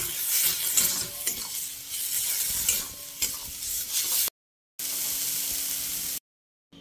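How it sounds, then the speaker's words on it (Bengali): Dried fish paste for a shutki bhorta frying in oil while being stirred, a dense hissing sizzle with repeated scraping strokes, close up, cut by two short silent gaps. "মাছের থেকে যতক্ষণ না তেলটা ছেড়ে আসবে ততক্ষণ কষাতে থাকবে"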